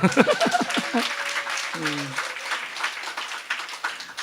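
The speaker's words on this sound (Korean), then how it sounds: "한번 말 나온 김에 박수 한번 쳐주세요" A church congregation at a sermon gathering breaks into applause, a broad wash of clapping heard through the room alongside a little laughter and a brief voice at the start.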